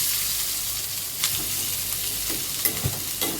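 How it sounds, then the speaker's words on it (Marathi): Onion fries in a little oil in a pan, a constant gentle sizzle broken by occasional spatula scrapes and taps as it is stirred, close and fairly quiet. "कांदा पण आपल्याला गुलाबी कलर येईपर्यंत परतून घ्यायचा आहे"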